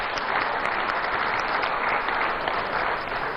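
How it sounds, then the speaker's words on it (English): Steady, full round of applause from an audience at a public dialogue event with Julius Malema, dense continuous clapping filling the room without a break. "I think it's important that we give him a round of applause"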